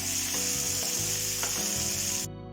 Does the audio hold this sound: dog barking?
no